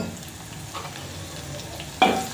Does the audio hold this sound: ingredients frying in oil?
yes